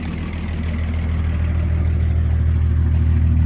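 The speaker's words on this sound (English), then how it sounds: "the dual exhaust has a little bit of a growl" The 2.4L turbo diesel of a 1984 Lincoln Mark VII LSC idles steadily with a deep, rumbling dual-exhaust growl, loud and close, holding an even throb throughout with no revving.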